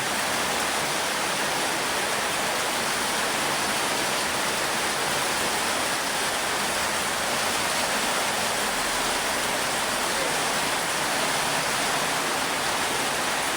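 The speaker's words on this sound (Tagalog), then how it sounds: "Malakas na po ulan" Heavy rain pours down in a dense, constant roar of hiss with no pauses, loud and close throughout.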